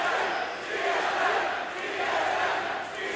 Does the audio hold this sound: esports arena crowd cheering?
yes